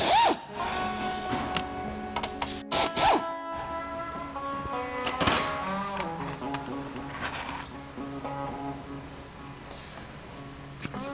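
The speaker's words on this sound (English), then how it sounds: "we're going to take 3 shock tower bolts off first" Shock tower bolts come off a Dodge Hellcat, with bursts of a power tool whirring and ratcheting close by, interspersed with sharp metallic clicks and brief pauses.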